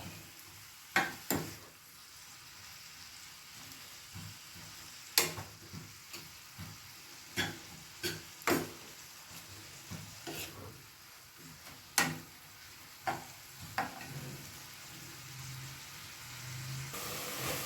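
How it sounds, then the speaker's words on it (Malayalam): Tomato and onion frying in a large cooker as a spoon stirs them: scattered sharp scraping and clinking strokes every second or so over a faint, low sizzle, with no one talking. "ഇത് വലിയ പാത്രയ്ക്ക് വേണമെങ്കിൽ ആക്കാന്ന കുറച്ച് വിസ്താരമായിട്ട് നമുക്ക് ഇളക്കാം"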